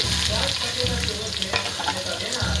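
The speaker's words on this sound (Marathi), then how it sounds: "आता आपण मोहरी टाकून घेऊया मस्तपैकी आणि मी कांदा चिरलेला आहे तो पण टाकून घेते" Mustard seeds and chopped onion fry in hot oil, a loud, steady sizzle with crackling pops running throughout, close up and with no talking.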